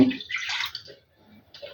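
Pouring 9% vinegar, about 100 ml, from a measuring cup into a 6-litre pot already holding water; a short splashing pour up close, tapering off with a few light trickles.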